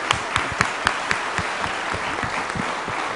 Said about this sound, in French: merci de l'applaudir à nouveau